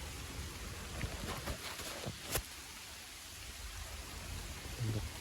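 Rain falls outdoors as a steady soft hiss with scattered drop ticks, faint and continuous, with no talking.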